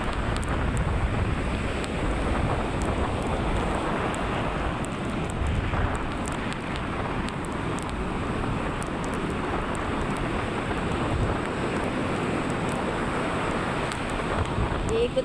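Steady roar of wind buffeting the microphone over rushing ocean surf with very large waves, continuous and loud throughout with no clear pauses.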